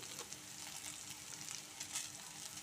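Okra frying in a pan, a steady soft sizzle and crackle with light stirring, close but fairly quiet, with no talk over it.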